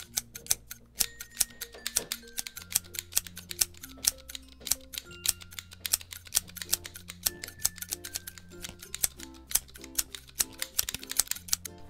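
Grooming scissors trimming a Pomeranian's fluffy coat, snipping in quick crisp bursts of clicks close by, pausing briefly between runs of cuts, with no talking.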